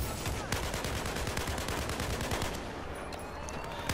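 RPK-12 light machine gun in Battlefield 4 firing a sustained rapid burst of loud, evenly spaced shots at about 600 rounds per minute, ending in quieter trailing sounds.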